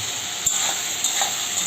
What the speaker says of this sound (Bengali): ভেজে রাখা আলু বেগুনগুলো এর মধ্যে আমি দিয়ে দেবো